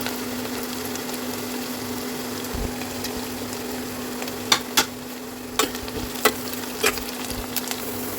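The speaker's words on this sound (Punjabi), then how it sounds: "ਆਪਾਂ ਪਿਆਜ਼ ਪਾ ਦਿੱਤੇ ਤੇ ਹੁਣ ਆਪਾਂ ਪਾਵਾਂਗੇ ਅਦਰਕ ਤੇ ਹਰੀਆਂ ਮਿਰਚਾਂ ਕੱਟੀਆਂ ਹੋਈਆਂ" Onions, ginger and chopped green chilies frying in oil in a pan, a steady hiss with a low hum beneath and several sharp clinks of stirring in the second half, no voices.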